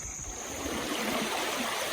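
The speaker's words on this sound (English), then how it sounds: "Well, the creek's about the same." Water runs steadily over rocks in a creek, a continuous rushing hiss with no pauses and no voices.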